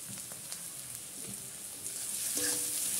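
Onions frying in a pan with a little salt, stirred as they cook, giving a soft, steady sizzle with faint scraping touches throughout.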